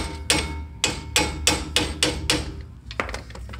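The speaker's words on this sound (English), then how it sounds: "I like to just give it a little tap of the hammer." Six sharp metallic hammer taps, evenly spaced, ring out close by on a front strut while fitting a leveling kit to a 2017 Ram 1500, followed by a few lighter, quicker knocks.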